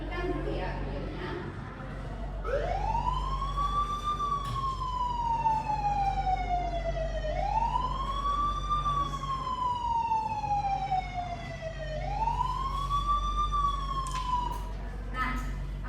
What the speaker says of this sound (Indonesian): Kita pakai sumber suaranya sirine ambulan.